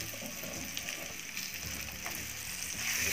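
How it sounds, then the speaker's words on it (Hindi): Raw green mango pieces fry with turmeric and chili in a pan over low flame, making a faint, continuous sizzle with light crackles throughout. "इसको फ्राई करेंगे हम करीब 2 मिनट लो फ्लेम पर"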